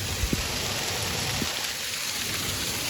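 Steady monsoon rain hisses down, with a few distinct drops knocking nearby against a constant wash of falling water.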